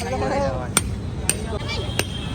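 Three sharp, separate hammer blows ring out while people build a Ravan effigy for Dussehra in Karol Bagh, heard under close, continuous talking.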